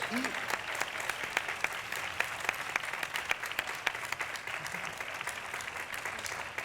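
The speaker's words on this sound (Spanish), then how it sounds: "un aplauso para ellos" Audience applause at a biomedicine science conference after a panel, a steady sustained wash of many clapping hands with some voices mixed in, moderately loud throughout.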